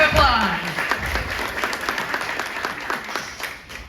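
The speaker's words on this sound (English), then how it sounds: "round of applause." Audience at a panel event claps, a crackling burst of applause loudest at the start and tapering off, with a voice speaking over part of it.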